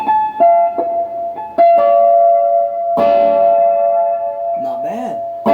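Electric guitar notes from an Ibanez guitar through a Peavey amp ring out one after another with a reverberant wash, sustained tones decaying smoothly, followed by a bent note.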